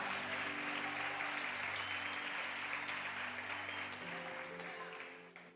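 Church congregation applauding steadily after a sermon line, a dense wash of clapping that stays loud and even throughout, with sustained organ or keyboard tones beneath and a slight fade at the end.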